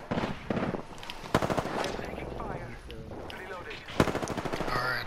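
Rapid automatic weapon bursts and single shots in the battle royale game Apex Legends, loud and close, in repeated stuttering volleys with voices talking over the gunfire.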